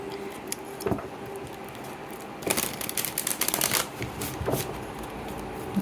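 A deck of Starseed oracle cards is shuffled by hand close up. Soft papery riffles and slides come in several irregular bursts over a faint steady background.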